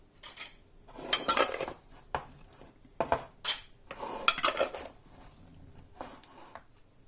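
Glass jars filled with home-cooked meat in jelly are screwed tightly shut, giving close, sharp clinks and clatters of glass and lids in short bursts with pauses between, and no one speaking.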